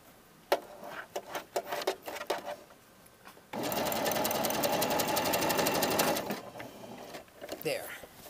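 A sewing machine stitching buttons onto a jacket: a few soft clicks and taps, then a steady fast mechanical whirr of stitching for about three seconds, close and fairly loud, followed by more handling clicks.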